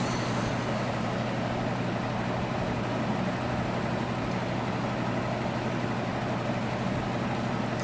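A vintage GE F11W16 box fan runs steadily with a loud, smooth motor hum and an even broadband whoosh of moving air, continuous and close with no other sounds.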